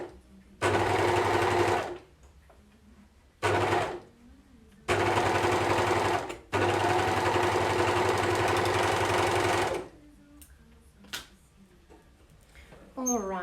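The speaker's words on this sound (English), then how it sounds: "I'm going to my overlocker, and I'm going to stitch this out" An overlocker stitches fabric in loud mechanical bursts of rapid whirring, a short run, a brief one, then two long runs, with quiet gaps and a little talking between them.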